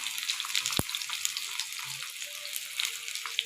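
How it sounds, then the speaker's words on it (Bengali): Onion with a bay leaf frying in hot oil, a thin, steady crackling sizzle with small pops, and one sharp click early on. "দেখো পেঁয়াজটা ভাজা হচ্ছে"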